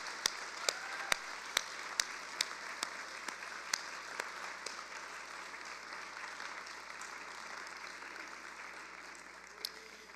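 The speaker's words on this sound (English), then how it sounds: "can we get a round of applause for all of the staff and volunteers that have made this event happen?" A packed rally crowd applauds staff and volunteers, sustained clapping with a few sharp close claps standing out near the start, steady and moderately loud for about ten seconds.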